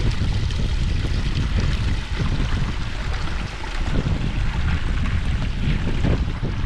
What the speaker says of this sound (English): just the little sound of water